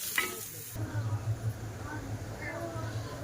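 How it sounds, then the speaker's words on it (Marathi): Tomato pieces fry with onion in a pan for an egg curry, giving a steady close sizzle with soft stirring scrapes throughout after a brief quiet start. "टमॅटो टाकलेला आहे थोडं एक पाच मिनटं परतूया आणि काढून घेऊया"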